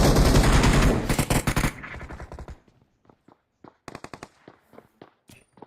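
Rapid automatic gunfire from the BGMI battle-royale game bursts loudly at the start, then thins into scattered single shots and short volleys at a distance, with no talk.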